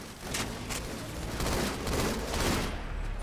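Rapid gunfire bursts from a Halo 2 Anniversary team slayer match on the Bloodline map, with sniper rifle shots cracking repeatedly over a dense, noisy battle mix for a few seconds.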